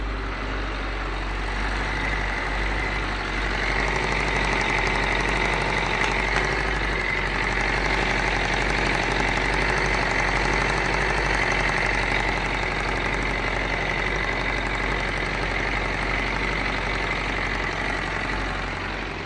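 A Suzuki 650 Bandit motorcycle engine idles with an exhaust leak at a bent flange, a steady close rumble with a ticking, puffing edge and a constant hum throughout.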